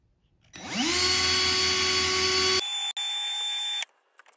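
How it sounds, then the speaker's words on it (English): A power drill spinning a hinge pin on a Team Associated B74.2 RC car whirs up to a high steady whine, then shifts pitch briefly before cutting off, loud and close with no voices. "as you rotate the drill, you just work the Neverdull"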